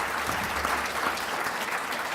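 Steady applause from a seated audience thanking the guests of an Olympics panel function, dense and sustained clapping with no pauses for just over two seconds.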